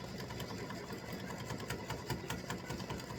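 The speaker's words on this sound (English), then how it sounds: "so it's doing satin stitching around" An embroidery machine runs steadily through satin stitching on a freestanding lace Valentine dangling heart design, a rapid even needle chatter that continues without pause at close range.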